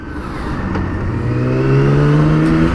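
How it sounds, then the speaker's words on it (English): 2017 BMW K1600GT motorcycle engine accelerating smoothly, a rising turbine-like whine climbing steadily in pitch and volume over a few seconds, close and continuous with no talk. "This engine is just so turbine smooth."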